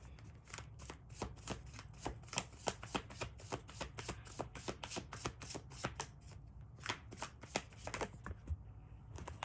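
A large deck of cards shuffled steadily by hand, producing a rapid regular series of crisp flicks and taps, close but fairly quiet, with no speech.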